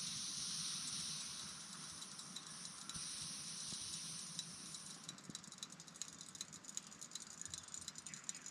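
Pasta cooking water poured out and drained off, a steady close hissing gush with rattling that thins into lighter splashes and patter.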